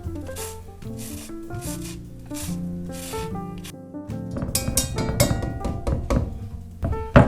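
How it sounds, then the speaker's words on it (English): An orange peel is zested by going around a whole orange, making a dry, rasping rub that repeats in short strokes beneath a louder musical tone. "We'll just go around and take it off this whole orange."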